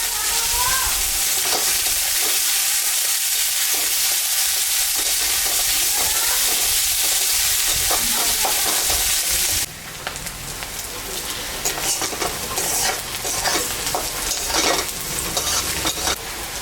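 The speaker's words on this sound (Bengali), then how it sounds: "পেঁয়াজটা ভাজে ভাজে আমার হয়ে গেছে" Chopped onion fries in a pan with ginger and garlic, a loud, steady close sizzle with scraping stirring strokes that turn more crackly and uneven partway through, heard alone without speech.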